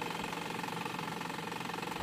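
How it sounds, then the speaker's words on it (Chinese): Generator engine driving a silage bale wrapper for corn straw cutting, droning steadily at a low, fairly faint level with a rough, knocking pulse as the throttle is raised; no voices. "增大油门"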